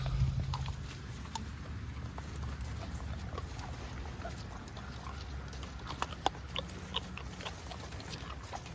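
Pigs feed outdoors on nuts fallen from trees, with steady low rustling, crunching and snuffling close by and a few sharper clicks and snorts scattered throughout.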